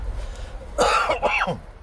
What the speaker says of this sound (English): Still got this stupid cough.